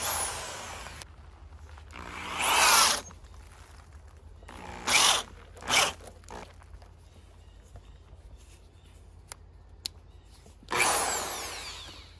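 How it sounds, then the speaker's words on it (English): A power drill whirs in several short bursts into the wood of a deciduous bonsai tree, separated by quiet pauses and faint handling noise. "So I'm just going to grab a drill here and drill into it"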